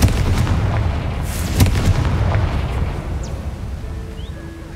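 Confringo explosive spell blasts in the Hogwarts Legacy video game: loud booming bursts, two strongest near the start and middle, with crackling debris trailing off into quieter game ambience.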